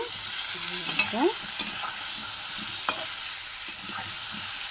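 Rohu fish curry with eggplant and potato cooking in a pan: a soft, steady sizzle with a few light scrapes and clinks of stirring, close and quiet, no one talking.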